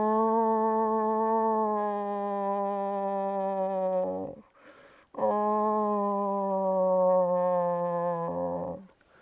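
A person makes a soft, whiny moose call, a human voice imitating the animal. It comes as two long, nasal, steady-pitched calls, each trailing off at the end, close and fairly quiet.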